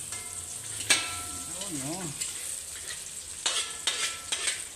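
Crab sizzling and frying in a pan with garlic and margarine, a steady hiss with occasional stirring clatter, under brief spoken words.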